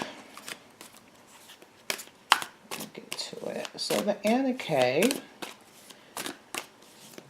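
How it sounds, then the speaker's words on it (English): Brisk tarot card shuffling rattles in short bursts, with a person talking over and between the shuffles. "let me just shuffle these"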